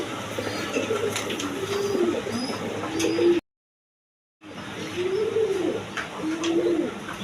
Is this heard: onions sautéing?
no